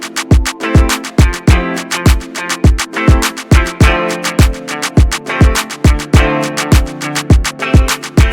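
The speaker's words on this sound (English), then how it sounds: "It's the thing with the 500 million claps." Layered claps stacked over kicks in a busy dancehall-style drum pattern, dense, rapid hits looping with a bouncing syncopated feel, loud and without voices.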